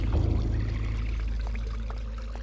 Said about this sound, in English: it's not blood flowing through, it's water